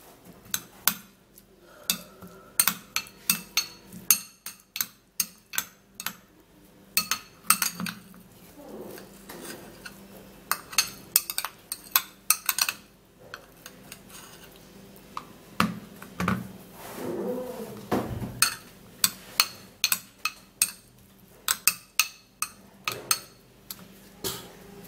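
A spoon or utensil clinks rapidly against a glass container while an organic honey mixture is stirred, giving sharp, close, repeated ticks and chinks in irregular bursts, with brief gaps and scraping between them.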